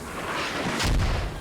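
One heavy, booming shot cracks through the Squad battlefield amid a dense, constant roar of combat noise.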